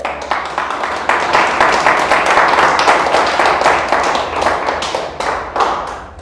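A church congregation bursts into steady applause, many hands clapping together in a dense, rhythmic patter that holds for several seconds before tapering off.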